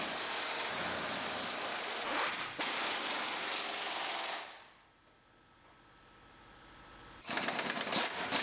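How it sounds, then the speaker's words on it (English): Bolts holding the bumper to the frame of a 2007 GMC Sierra pickup are being tightened: a loud, steady rattling burst runs for about four seconds, then a quieter lull, then another short rattling burst near the end. "And then we can start tightening all the bolts for our bumper back up to our frame."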